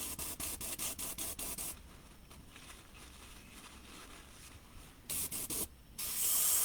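An Iwata airbrush sprays water-based paint into a cardboard box lined with old carpet, giving rapid short hissing bursts at first, then a long steady close hiss, then a few more quick bursts.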